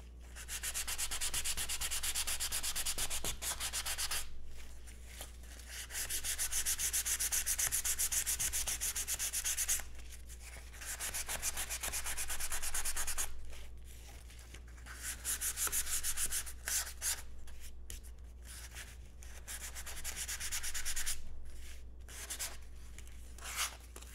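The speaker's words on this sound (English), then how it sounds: "I'm gonna go over with a little bit of sandpaper over the top of it." Sandpaper rubbed over a painted leather cuff to dull its shine, a steady close scratchy rasp in long continuous strokes broken by brief pauses, with no speech.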